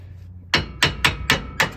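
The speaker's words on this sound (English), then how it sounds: "got my 3-pound sledge. We're gonna give this a little whack." A 3-pound sledgehammer strikes a tie rod end on a vehicle five times in quick succession, each a sharp loud metallic whack, close and unaccompanied by speech.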